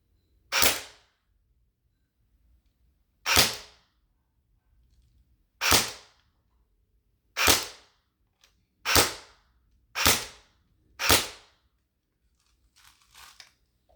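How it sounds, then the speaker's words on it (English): An RPK-style BB gun fires seven single shots, each a sharp close crack, spaced irregularly about one to three seconds apart, with faint rustling afterward and no talk. "And I'm hearing the BBs hit in the backstop I got."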